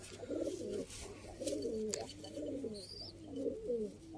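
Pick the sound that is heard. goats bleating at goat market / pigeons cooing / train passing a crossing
pigeons cooing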